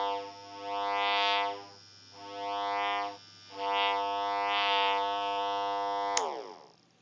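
Electromagnetic emissions from an EM pump picked up through a telephone pickup coil: a loud, steady electric buzz with rising and falling sweeping tones in repeated swells, ending in a sharp click and a falling whine.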